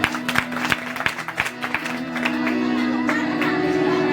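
An audience at a bhajan devotional event in Vadodara claps in a burst of applause, uneven sharp claps at first that blend into a steady roar of clapping, with musical tones underneath and no voices.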